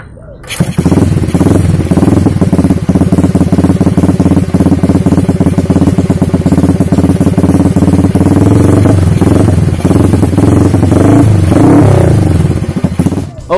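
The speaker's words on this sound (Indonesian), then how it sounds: "Oke, kita akan mendengarkan suara motor ini." A Honda S90 chopper motorcycle with a foot clutch runs close and loud, its single-cylinder engine putting out a steady, rapid mechanical chatter that rises and falls slightly with the throttle throughout.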